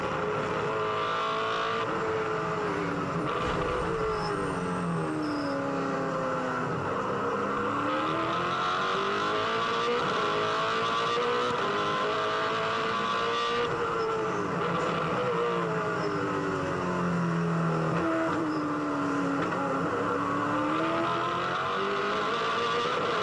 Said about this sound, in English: Have a listen to this car for a lap around this track.